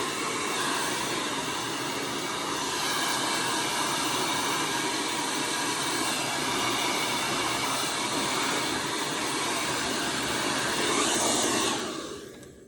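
A hair dryer runs continuously at full power while blow drying hair, giving a steady, close, loud whooshing roar that tapers off right at the end.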